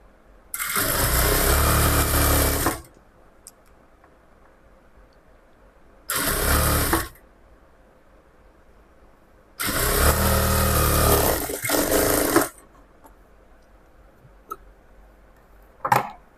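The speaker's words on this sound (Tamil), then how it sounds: "இப்போ ஸ்லீவில் வந்து கீழ் ஓரத்தை மடித்து தைச்சிக்கலாம்" Sewing machine stitching a folded sleeve hem on a layer-cut top, running in three loud steady bursts of whirring, one short and two long, with quiet pauses between and no speech.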